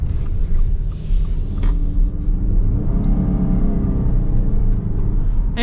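Inside a 2025 Subaru Ascent Bronze Edition, the turbocharged engine with CVT drones and whirs steadily under acceleration, a continuous rumbling cabin sound with a gradual rising tone.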